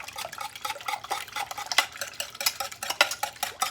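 A whisk clatters against a pan while mixing German chocolate cake icing, irregular quick metallic scrapes and taps at close range, no talking.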